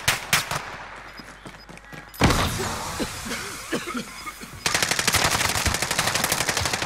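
Automatic gunfire from Call of Duty Warzone 2 gameplay: bursts of rapid shots, then a steady, loud stream of close rounds near the end, with scattered impacts in between.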